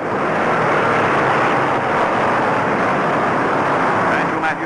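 A pack of NASCAR stock cars races on a high-banked speedway, a dense, continuous loud roar of engines, with an announcer talking over it.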